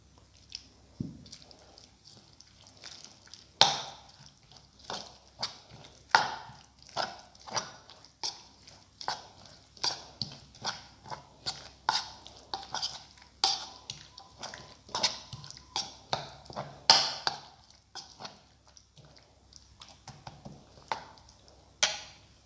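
A wet, sticky chickpea fritter batter with chili, lamb and fenugreek is mixed by hand, giving repeated squelching and slapping strokes in an irregular rhythm, close and moderately loud.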